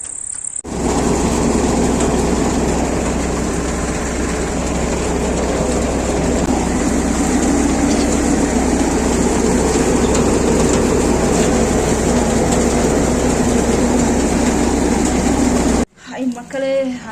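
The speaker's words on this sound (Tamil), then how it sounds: "அது வந்து மிஷின் தான் மாற்றும், நாங்கள் அள்ளி மட்டும் தான் போடுவோம்." Threshing machine processing a black gram (urad) harvest on a farm, a loud continuous mechanical drone with steady low rumble and broadband clatter running unbroken for about fifteen seconds before cutting off abruptly.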